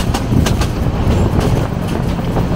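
A train from Dhaka to Mymensingh rumbles steadily along the rails, with a dense low roar and faint rhythmic clicks from the wheels, loud and continuous throughout.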